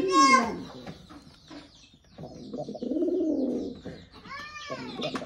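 A lakka pigeon coos in low, throaty, rolling calls, close by, with a few higher bird sounds at the start and end.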